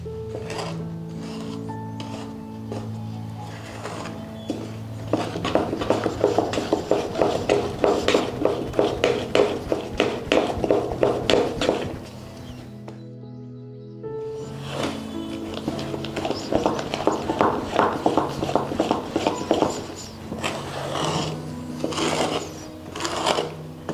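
Suhag sonth mixture stirred in a pan, a steady run of scraping and clinking as the spoon works the pan bottom, with a brief pause partway through before the stirring resumes.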